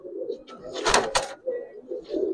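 Giribaz pigeons released by hand, with soft low cooing and a couple of sharp bursts of flapping wings close by, and someone speaking briefly.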